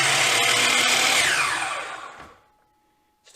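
A Hercules dial compound miter saw runs at full speed with a loud, close motor whine, then spins down after release and fades to near silence, followed by a faint click at the end.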